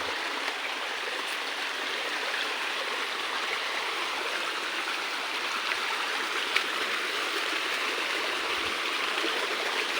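A small waterfall on a stream, steady broadband rush of flowing water close by, constant and unbroken with no voices.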